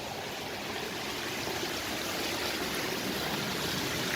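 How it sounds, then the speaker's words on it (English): A stream's running water rushes steadily outdoors on a freezing morning, a continuous broadband hiss at moderate level with no voices over it. "can you hear the running water?"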